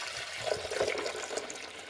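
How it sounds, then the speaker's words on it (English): Vinegar poured from a jug into the rear water reservoir of a Mr. Coffee DRX23 12-cup programmable coffee maker, a close, gurgling trickle with small splashes throughout. "So I've got my vinegar. I'm going to pour it back here where the water goes."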